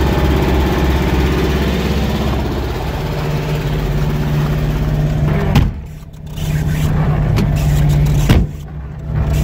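A UAZ engine idles steadily after starting, a close, even mechanical drone that holds throughout, broken by a couple of brief clunks near the end.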